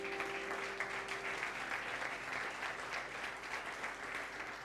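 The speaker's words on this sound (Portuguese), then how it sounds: "Dá um aplauso a Jesus." A church congregation gives sustained applause during a sermon, an even, fairly distant patter of many hands with a faint tone lingering at first.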